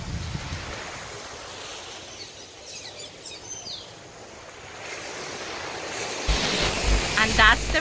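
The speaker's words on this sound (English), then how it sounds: "This is the beach." Ocean waves wash onto the beach at St. Morgan's Bay in a steady, broad rush, buffeted by wind noise on the microphone, swelling louder near the end.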